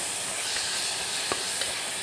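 Ingredients sautéing in a pan for paruppu kuzhambu give a continuous soft hiss and sizzle with two brief faint ticks or pops, close but quiet, with no talking.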